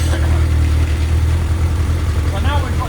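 A car engine fitted with JDA carburettors idles with a steady, low rumble close by while someone talks over it.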